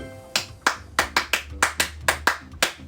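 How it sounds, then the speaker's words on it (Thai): Steady, evenly spaced hand claps, about nine sharp slaps at a moderate rhythm, close and clear with no talking. "ปรบมือ"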